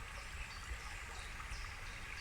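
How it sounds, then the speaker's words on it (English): A babbling brook trickles and gurgles in a continuous, even wash of running water. It sounds close and moderately loud, with no one speaking. "Babbling brook"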